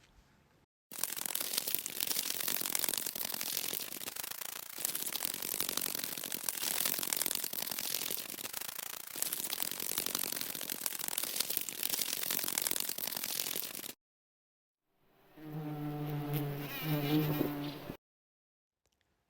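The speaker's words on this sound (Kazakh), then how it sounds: "Қоңыз, bug." A beetle's continuous buzzing hum fills most of the clip, steady and close, then stops abruptly. A brief voiced sound follows after a short silence.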